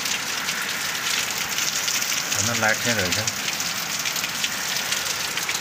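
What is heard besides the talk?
heavy rain falling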